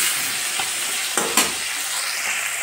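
Pieces of fish fry in hot oil in a pan, giving a continuous close sizzle with a couple of brief louder spatters near the middle, no talking.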